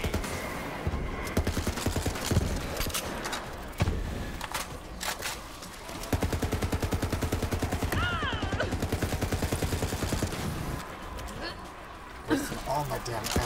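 Gunfire in a video game: bursts of rapid automatic shots and heavy fusillade, loud and close, with a player talking over stretches of it.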